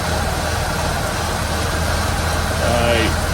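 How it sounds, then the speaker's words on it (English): A Holden VS Commodore ute engine, restarted after ten years sitting, idling rough with a low, uneven throb and steady mechanical hum, a faint voice murmuring briefly near the end. "Sounds like there's a little bit of a rough idle there"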